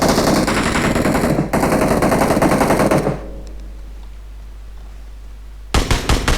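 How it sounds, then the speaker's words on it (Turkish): Rapid bursts of automatic gunfire in the PUBG battle royale game on the Livik map, loud and continuous for about three seconds, then near silence, followed by a few more sharp shots at the end. "Rastgele bir iki atış yaptı bu arada"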